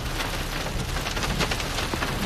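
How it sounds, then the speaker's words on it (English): Dense, steady patter of hail drumming on a surface during a thunderstorm near Stockton, California, loud and continuous with no voices. "That's all hail right there."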